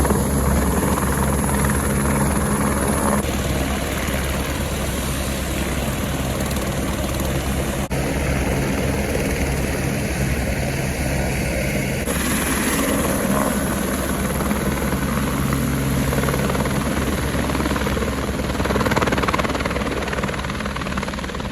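Helicopter at the Amarnath Yatra drop point near the base camps, its rotor and engine droning steadily and fairly loud for the whole stretch, with no break.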